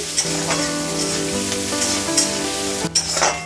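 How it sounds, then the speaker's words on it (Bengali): Chopped onion fries in mustard oil with a continuous close sizzle, while a spoon stirs and taps the pan in short scrapes and knocks throughout. "একটু ভাজা ভাজা করে নেব।"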